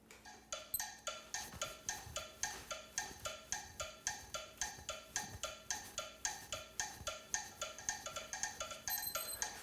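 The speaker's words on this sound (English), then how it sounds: "I'm going to set my metronome at 22 beats per minute" A metronome ticks steadily at 22 beats per minute, crisp regular clicks repeating evenly and close by in a quiet room.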